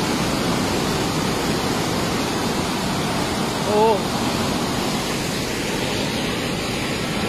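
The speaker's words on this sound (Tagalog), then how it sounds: "Kita ninyo na grabe ang tubig ang gibuhian mag-release sa Nia Dam." Floodwater released from the Nia Dam roars in a steady, dense rush close by, a brief voice cutting in once midway.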